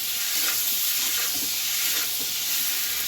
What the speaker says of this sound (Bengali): এটাকে ভালো করে কষাবো।